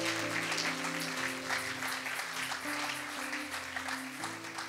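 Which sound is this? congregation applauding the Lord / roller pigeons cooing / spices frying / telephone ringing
congregation applauding the Lord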